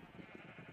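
Sheep bleat faintly in the Minecraft video game, a short wavering bleat pulsing quickly under a steady hum.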